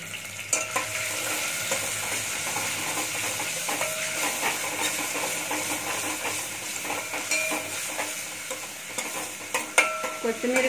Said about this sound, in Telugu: కొత్తిమీర వేయించుకుందాము.